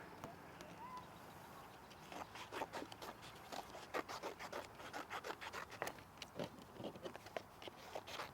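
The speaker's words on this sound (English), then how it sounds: "cut some strips out of our box. See how fast I could do this." Scissors or a blade cut strips from a cardboard box, a quick series of crisp scratchy snips and rasps in an irregular rhythm, close but fairly quiet.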